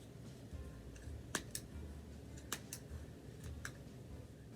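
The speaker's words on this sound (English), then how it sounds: "I'm going to get my scissors in between the 2 pieces here, and I'm just going to snip all the yarn" Scissors snip through yarn strands between two pieces of cardboard in a small craft setup, a handful of sharp, quiet clicks spaced irregularly over a soft background hush.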